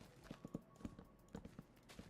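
A horse in Minecraft clops softly with quick, irregular hoofbeats on a floor, faint and close, with no talk over it.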